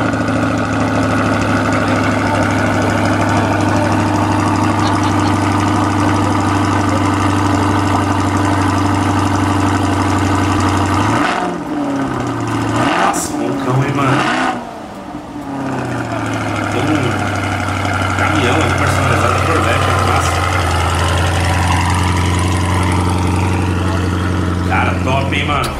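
A red car's engine idles loudly with a steady, deep, close drone, briefly broken by a few sharp revs or shifts midway before settling back to an even idle.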